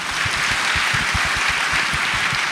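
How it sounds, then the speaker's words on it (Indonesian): Steady audience applause at a talk or presentation event, a dense wash of many hands clapping close and loud, with no voices over it. "Boleh kasih tepuk tangan buat Cinta"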